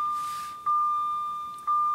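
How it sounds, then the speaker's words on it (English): Jaguar X-Type 2.5 V6 lights-left-on warning chime inside the cabin: a steady high electronic tone broken by two soft repeating pings about a second apart, clear and close with no talk. "That's telling you you've left the lights on"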